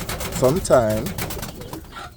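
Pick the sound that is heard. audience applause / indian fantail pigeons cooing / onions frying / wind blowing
indian fantail pigeons cooing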